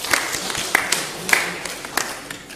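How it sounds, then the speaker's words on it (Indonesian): Audience clapping at the inauguration and blessing of a church retirement home, a broad steady patter of many hands with a few sharper claps standing out, moderately loud and continuous. "Maka tepuk tangan untuk mereka."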